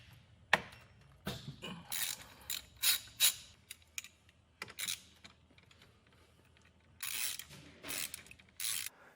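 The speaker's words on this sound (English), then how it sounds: "I have a 13mm socket. We're going to just take one of the nuts off on the positive terminal." A ratchet turning a 13mm socket loosens a nut on the positive battery terminal of a 2024 Subaru Outback, giving bursts of close, crisp clicking with short pauses between the runs. No one speaks.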